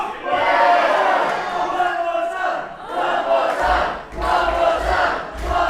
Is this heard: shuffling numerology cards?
no